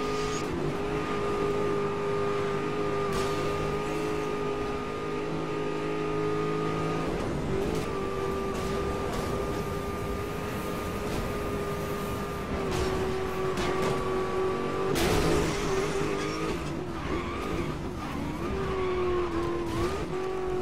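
Muscle car engine revs steadily in a Need for Speed racing game, with tire squeal and skidding bursts, loud and continuous for about twenty seconds with no talking.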